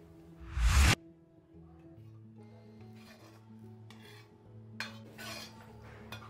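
Dishes and pots being washed at home: a loud scraping, rattling clatter of utensils at first, then quieter intermittent clinks and rubbing over a low steady hum.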